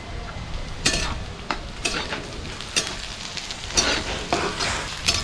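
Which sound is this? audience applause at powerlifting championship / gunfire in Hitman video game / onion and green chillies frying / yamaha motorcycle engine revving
onion and green chillies frying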